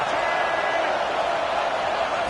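Dense, steady roar of a stadium crowd at a college football game between Alabama and Penn State, loud and sustained, a wash of voices with no distinct words standing out.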